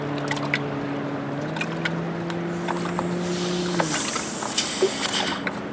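Loosening the fuel tank cap on a 1987 Johnson 70 hp outboard lets out a soft, airy hiss of escaping pressure. It swells about halfway through over a steady low hum and some faint ticks.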